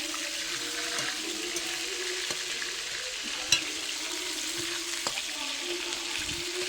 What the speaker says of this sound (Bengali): মুড়োগুলো একটু কড়া করে ভেজে নিতে হবে, না হলে ভেতরে যে এগুলো আছে ওগুলোতে তেল পৌঁছাবে না।